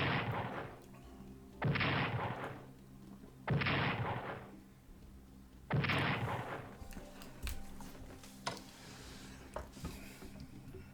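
Repeated bombing strikes in the Strategic Command WWII strategy game: four loud, heavy explosive bursts about two seconds apart, each rumbling then cut off, followed by scattered smaller impacts and crackle.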